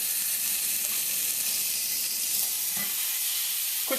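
Seasoned oxtail pieces searing in a hot pan over medium-high heat, a dense, continuous sizzle and crackle close up, with a brief scraping stir near the end and no voices.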